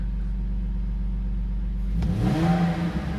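A BMW E46 convertible's engine idles with a low, steady rumble, then revs up sharply once near the end, close and loud with no talking.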